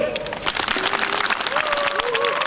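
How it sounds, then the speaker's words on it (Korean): An auditorium audience at a university arts center claps vigorously and continuously at close range, with voices and cheering mingled into the applause. "모두 힘찬 박수 부탁드립니다."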